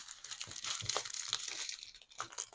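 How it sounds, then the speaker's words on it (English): Plastic packaging crinkles and rustles in irregular bursts close to the microphone, soft and crackly with brief pauses between handlings. "every time I'll pause while I crinkle, because nobody needs that crinkling in their lives"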